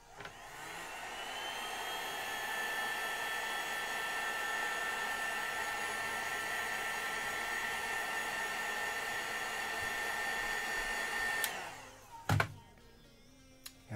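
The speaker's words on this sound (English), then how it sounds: "I do have this really cute hair dryer that I'm just going to use really quick to just make sure we're dry" A small hair dryer blows steadily for about eleven seconds while drying paint on an ogre zombie miniature, a loud whirring whine close by, then switches off with a few clunks.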